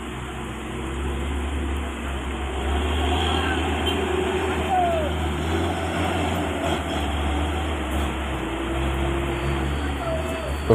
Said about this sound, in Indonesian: terlihat mobil truk tangki hampir gagal nanjak bosku, karena keadaan jalan masih licin bosku